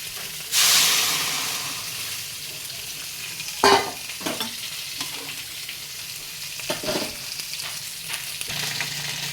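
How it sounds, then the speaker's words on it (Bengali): Fish and vegetables frying in a pan, a steady close sizzle with a loud burst of hissing near the start, then occasional scrapes and clinks of stirring. "মাছ ভাজা হচ্ছে, সবজিটাও ভাজা হয়ে গিয়েছে"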